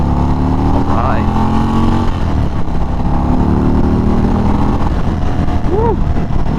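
A 2023 Indian Springfield Darkhorse motorcycle accelerating on the road, engine drone steady and loud throughout with wind noise, the rider's voice rising over it near the end.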